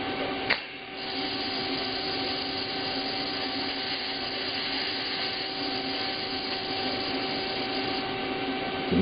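A TIG welder tacks a mitered quarter-inch steel rod at about 40 amps, a brief click at the start followed by a steady, even electrical buzzing hiss that holds for several seconds, quiet and close, with no talk.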